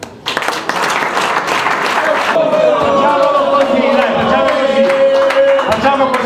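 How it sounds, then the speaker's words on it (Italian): A crowd applauds and cheers for a departing football player, loud clapping that starts abruptly, with voices shouting and speaking over it as it continues. "Spontaneamente un applauso a questo ragazzo che ci ha dato tanto"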